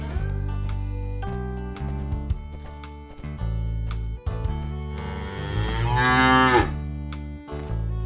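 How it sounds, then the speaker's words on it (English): A cow moos loudly and up close, a long drawn-out low bellow that rises and swells before fading, heard alone with music underneath. "Cow."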